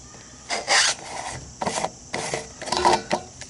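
A fuel cap is twisted off a Honda GX630 engine that stalls at full throttle, giving several close, gritty rasping and scraping bursts of thread and plastic friction with no voices.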